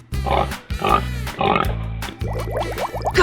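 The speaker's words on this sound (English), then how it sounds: "Piglet." A piglet in a 3D animal slide video game gives a run of loud, close, repeated oinks and grunts, with an electronic game tune playing underneath.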